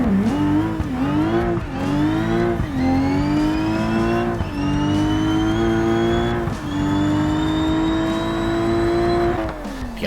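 Unmodified I-Series drag car in BeamNG launching hard, its engine note rising loudly through several gear changes with brief dips between shifts, steady and close throughout with no talk.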